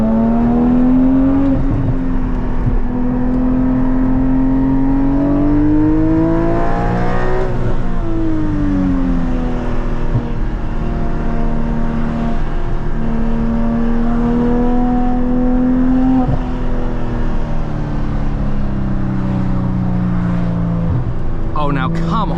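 A 2022 Porsche Cayman GT4 with manual gearbox and Valvetronic exhaust revs hard and loud from inside the cabin, engine pitch climbing through gears with brief dips at shifts, steady and close throughout.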